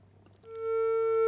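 A telephone line going dead after the caller hangs up on a call-in religious lecture, a steady electronic tone starting abruptly after a moment of quiet room noise and holding loud and unbroken.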